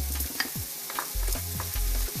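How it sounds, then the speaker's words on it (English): Loud, close sizzling of bacon and onions frying in a pan, a steady crackle with a low electrical hum underneath, no voices. "Always love the sound of frying onions."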